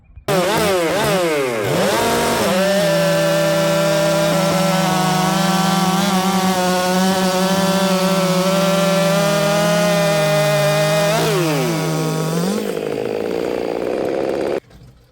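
Chainsaw running a square-filed .325 chain through wood: the engine revs up, holds a steady loud whine while cutting, then revs down and idles off near the end, close and alone.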